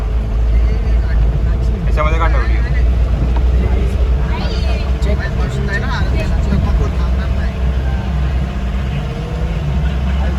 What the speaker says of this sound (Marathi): मोठ्या गाड्या जात नाही म्हणून आता छोटी गाडी घेऊन चालले.